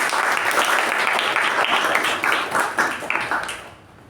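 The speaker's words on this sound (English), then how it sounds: "Can we have a round of applause for that?" A round of applause from a Toastmasters club meeting audience for the Toastmaster, full and steady clapping that tapers off near the end.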